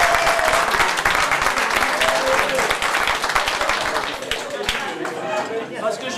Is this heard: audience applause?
yes